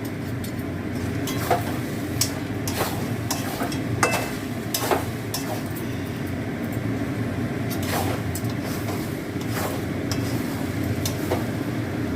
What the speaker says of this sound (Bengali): এই নেড়ে আমি ঢাকা দিয়ে দেবো